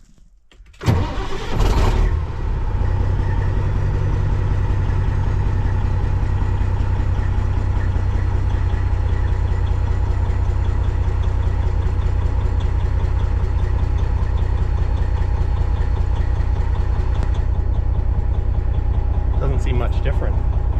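A Kenworth cabover truck engine cranks briefly, catches loudly and settles into a steady, rumbling diesel idle that continues close by for the rest of the clip.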